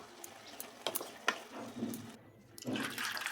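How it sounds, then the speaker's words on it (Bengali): Hot water from boiled cabbage is poured off and drained in a kitchen, a soft splashing, trickling flow with a few knocks of the pot, fairly faint and close, then a louder gush near the end. "জলটাকে ঝরিয়ে নিচ্ছি,"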